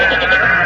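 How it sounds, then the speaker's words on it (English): Sheep bleating outside a door in a 1942 radio show, a single loud, wavering bleat heard up close. "he's brought all his little sheep friends with him"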